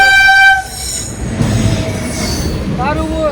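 A loud train horn blares, then a heavy rumble of rolling wheels with a high squeal fills busy Kalupur railway station in Ahmedabad.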